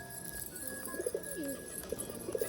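Pigeons coo softly in low, rolling calls while being fed grain and water indoors, a few repeated coos over steady background noise with no talking.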